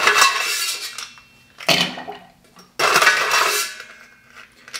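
Cocktail shaker rattling with ice and metal in a few loud, close bursts of shaking separated by short pauses, no talking.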